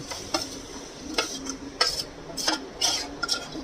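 Raw mango and sugar mixture being stirred in a wok over low to medium heat, giving scraping and clinking strokes at an irregular pace with a soft sizzle underneath, close and fairly quiet, with no talk.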